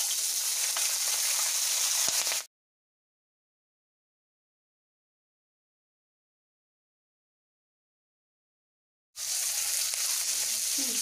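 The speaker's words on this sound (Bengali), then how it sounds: "রসুনটা একটু ভাজা ভাজা হলে ছেঁড়া কাঁচা লঙ্কা দিয়ে দেব।" Garlic and torn green chillies sizzle in hot oil in a pan, a loud steady hiss that stops abruptly into complete silence for several seconds and then resumes just as strongly.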